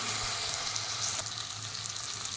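Half a kilo of mutton liver pieces sizzle steadily in a hot pan for a spicy liver fry, a dense, continuous crackle close to the microphone with no talking.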